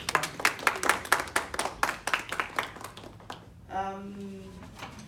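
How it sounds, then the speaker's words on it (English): A small group claps briskly for a few seconds, the clapping thinning out before a voice begins speaking. "Please give her a round of applause"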